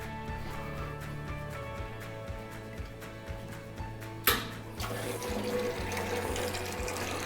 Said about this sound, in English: The water drains, runs through the generators, and turns on the lights at the top.